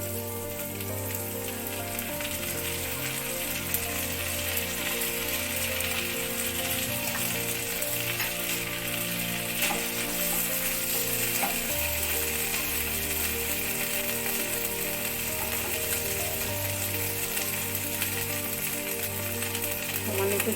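Mung dal frying in a pan with ginger paste, cumin paste and ground coriander, a steady, close sizzle that runs without a break and without speech.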